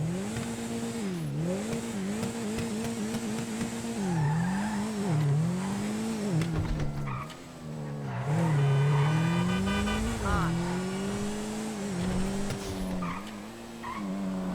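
The Canis Castigator car from GTA Online revs steadily with rising and falling engine pitch, joined by tire squeals and skidding, loud and close with no talking.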